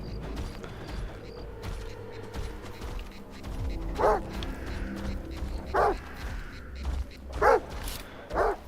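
Dogs barking in the video game STALKER 2, a few sharp barks spaced out over a busy, rumbling game background with creaks and mechanical noise.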